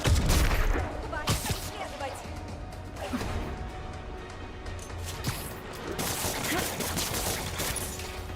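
Scattered gunfire during a heist mission in Marvel's Spider-Man Remastered DLC, with irregular loud bursts and cracks mixed with other game noise and voices throughout.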